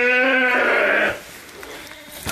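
A newborn lamb or its ewe gives one loud, close, drawn-out bleat that then fades into quiet farmyard background.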